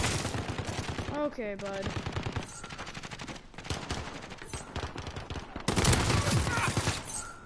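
Bursts of automatic gunfire in the shooter game Call of Duty Modern Warfare, rapid and fairly loud, mixed with game effects while a player talks briefly over it.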